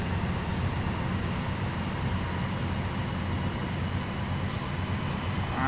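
A Train Sim World 2 train powers up and moves off slowly: a steady, dense rumble of motor and rolling noise fills the whole stretch, loud and continuous with no talk.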